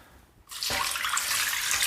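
Water gushes from a tap into a saucepan of pears, starting abruptly after a quiet moment and continuing as a steady, close splashing pour.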